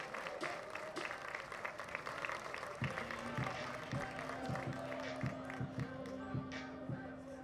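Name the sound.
baseball crowd applauding the departing pitcher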